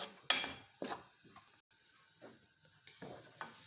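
Metal spatula scraping and stirring gram flour (besan) as it dry-roasts in a pan, with a few soft, scattered scrapes and light clinks separated by quiet pauses. Close, no talking.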